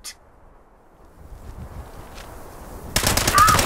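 Rapid automatic gunfire in a Fallout 76 battle bursts in loudly near the end after a quiet stretch with faint distant shots.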